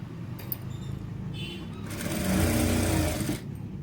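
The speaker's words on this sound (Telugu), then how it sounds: "బోట్ నెక్ పెట్టి ప్రిన్స్ కటింగ్ పెట్టేసి పైపింగ్ ఇచ్చేసి బ్లౌజ్ అయితే కుడుతున్నానండి." Sewing machine stitching a child's boat-neck blouse with piping hums along steadily, swelling louder in the middle before easing off, close by with faint background noise.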